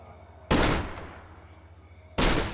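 Two loud, sharp revolver shots from a Mark 6 in the zombie survival game State of Decay, each a sudden blast with a long decaying tail, spaced under two seconds apart.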